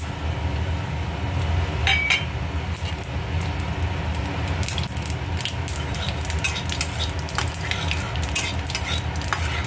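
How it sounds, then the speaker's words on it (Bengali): Bay leaf, whole dried chilli and cumin sizzle in hot oil, a continuous close crackling hiss dotted with sharp clinks and scrapes of a utensil against the pan. "এই তেলে আমি একটা তেজপাতা, গোটা শুকনো লঙ্কা আর জিরে"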